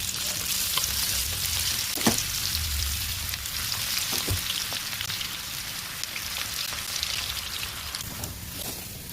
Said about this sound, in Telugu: ఇక నూనె అయితే వేడి అయింది. నేనైతే పకోడీ అయితే వేస్తున్నా.